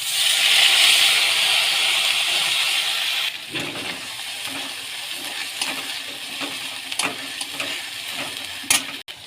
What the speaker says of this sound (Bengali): এই তেলে এক একে ফোড়ন দেব গোটা জিরে টমেটো কাঁচা লঙ্কা সর্ষে আদা বাটা তিনটে একসাথে আছে এটা দিয়ে দেবো